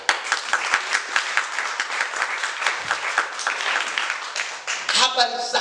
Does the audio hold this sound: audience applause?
yes